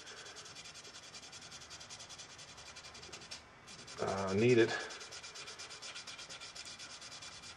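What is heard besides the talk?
sanding wood finish with 180 grit sandpaper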